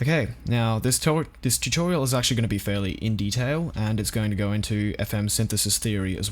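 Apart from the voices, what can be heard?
No everyday noise stands out behind the speech.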